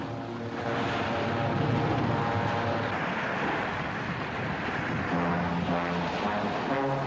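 A propeller airplane engine drones steadily and fairly loud throughout, a continuous rumbling hum with slight shifts in pitch near the end, no voices over it.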